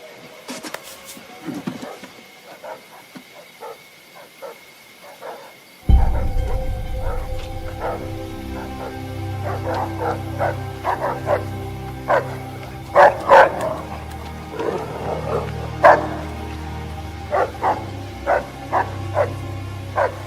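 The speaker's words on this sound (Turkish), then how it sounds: "köpeklerim çok sinirli" Several dogs bark sharply and repeatedly nearby, loud and agitated, with yips mixed in over a steady background hum.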